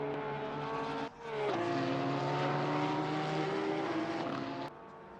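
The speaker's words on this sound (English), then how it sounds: "The Porsche, very high revving, very, very, very high-pitched noise, whereas the Nissan almost snarls and grunts." Porsche and Nissan race cars at Zolder during a four-hour endurance event, engines howling close by: a high-pitched, high-revving wail with shifting pitch, a brief dip around a gear change, then a sustained roar that drops off near the end.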